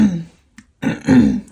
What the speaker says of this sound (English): As I clear my throat